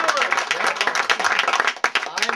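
A burst of hand clapping from a studio audience on a comedy talk show, quick dense claps with a voice talking over them.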